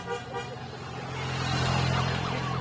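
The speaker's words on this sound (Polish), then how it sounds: "Pojawiają się kolejne pojazdy." Tour de Pologne race convoy vehicles pass along the road as a building engine roar with a steady droning tone and faint horn-like toots, swelling as they approach, while a voice speaks over them.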